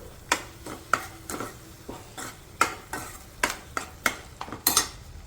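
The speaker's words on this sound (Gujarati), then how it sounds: "અને લસણ નાખી દઈશું। બધું મિક્સ કરી લઈશું।" Garlic cloves with salt are stirred in a frying pan, giving about a dozen crisp metallic scrapes and clicks at a steady, unhurried rhythm, close and clear with no talking.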